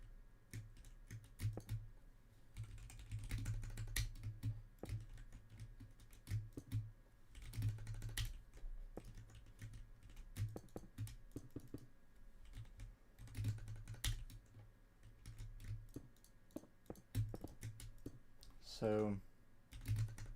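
Computer keyboard typing while building a Minecraft project: bursts of rapid, close key clicks with pauses between them, and someone speaking briefly.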